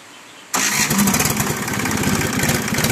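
A road roller's diesel engine cranks and fires after a half-second of quiet, then settles into a loud, steady, throbbing run close by.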